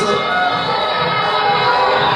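A large crowd shouts and cheers together at a mass gathering in Israel, a loud, steady roar of many voices with no break.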